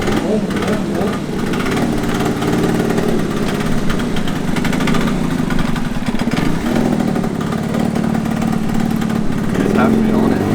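A Derbi GP1 scooter with a Piaggio engine and a newly fitted airbox runs with a continuous buzzing small-engine drone, loud and close. People talk over it.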